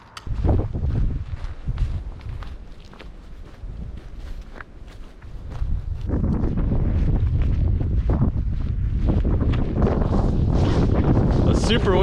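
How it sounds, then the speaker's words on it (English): Strong gusts batter the microphone on the Black Forest Trail, a wet forest path, with rumbling wind buffeting that eases briefly and then surges louder and constant, with faint footsteps underneath. "It's super windy, probably can't hear anything."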